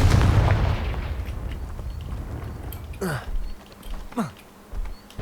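A Confringo spell blast in Hogwarts Legacy opens with a loud, deep boom that rolls away over a couple of seconds, followed by a few lighter swishes and thuds.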